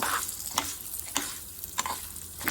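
Green chillies fry in a pan for Nellore coconut chutney, giving a steady sizzle broken by about five sharp scraping stirs spaced roughly half a second apart, close and moderately loud with no talking.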